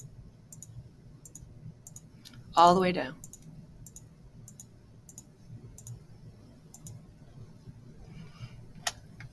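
A computer mouse clicks sharply and repeatedly at close range while the shift key is held, the clicks spaced irregularly across the stretch. A person speaks briefly partway through.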